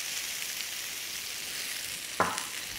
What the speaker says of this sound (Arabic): أثناء شوي الباذنجان قطرات بسيطة هيك من الزيت كل شوي